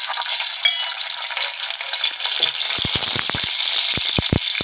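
Mustard seeds sputter in hot oil in a pan, a steady bright sizzle broken by a burst of sharp, rapid pops near the end, close and clear with no talking.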